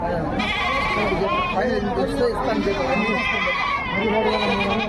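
Goats bleat repeatedly at the Gudur livestock market, wavering calls rising and falling close by over steady crowd noise while people talk throughout.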